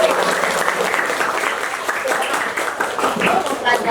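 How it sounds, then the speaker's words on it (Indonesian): Classroom applause for a student's good answer: steady, dense clapping from a group of students fills the whole stretch at an even level, with no voices over it. "Boleh dong kasih tepuk tangan."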